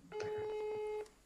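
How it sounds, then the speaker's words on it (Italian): Steady two-tone telephone call signal with a dialing beep sounding clearly for about a second during a live Italian broadcast hookup, fairly loud with no talk over it. "Una piccola telefonata."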